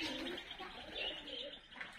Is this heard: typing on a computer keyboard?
no